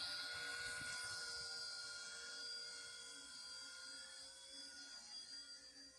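A pink ERA C032 RTF brushless RC UH-1 Huey model helicopter flies at an airstrip, its steady high-pitched motor and rotor whine sustained throughout, with fluctuating loudness and a faint voice in the background.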